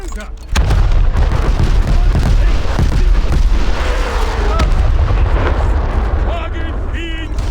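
Naval artillery shells and explosions in the War Thunder Mobile video game, a dense, continuous roar of booms and blasts from about half a second on, with game voice callouts mixed in.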